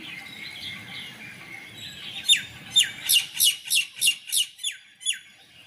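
Birds chirp in the early morning, a steady twitter early on and then a run of about nine loud, evenly spaced chirps in the last few seconds.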